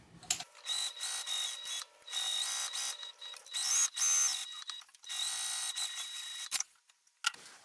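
A sewing machine bastes around the pieces of a lunch tote in bursts of high whirring stitching, stopping and restarting several times, with short pauses and a faint mechanical clunk near the end.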